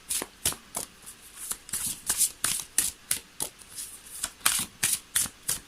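Tarot cards being shuffled by hand, a steady run of crisp riffling flicks in regular bursts about twice a second, close and clear, with no talk.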